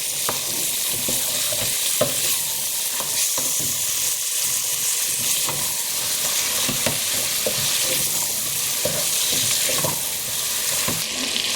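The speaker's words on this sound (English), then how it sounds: "now we're going to stir everything together until it's well combined" Chicken being stirred through a spice mixture in a pot for Bangladeshi chicken pulao, a steady close scraping and sizzling that runs for the whole stretch with small clicks of the utensil and no talking.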